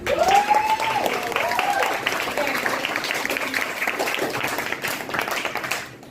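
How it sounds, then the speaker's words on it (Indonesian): Students in a classroom clap for a classmate during a teacher-training lesson in Banjarmasin, a sustained patter of applause mixed with a few voices, holding steady and fading at the end. "Terima kasih Aprilia, tepuk tangan."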